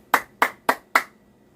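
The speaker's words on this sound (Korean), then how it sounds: "박수 쳐줄 일이에요. 박수! 박수, 박수! 박수, 박수!" Four sharp hand claps land in an even, quick rhythm, close and distinct, followed by quiet.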